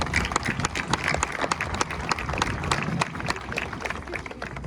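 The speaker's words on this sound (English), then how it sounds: "take a moment and maybe give ourselves another round of applause to feel a bit of the energy" Audience applause at Aldar Group's Light The Year 2024 event: a dense, steady wash of many hands clapping that fills the whole stretch at even loudness, with no voices standing out.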